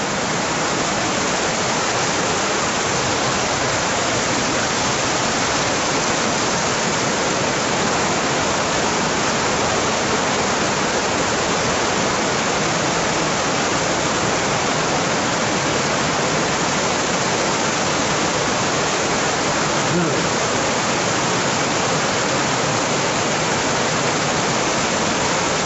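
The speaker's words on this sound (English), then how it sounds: "The river." An underground river rushes steadily through a water tunnel, a loud, dense, unbroken roar of flowing water with no pauses and no talk.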